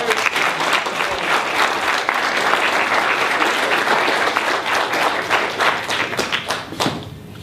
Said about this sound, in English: I want y'all to give a strong round of applause for our brother, Ward Churchill.